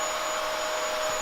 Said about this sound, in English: Let me just get the Hoover out.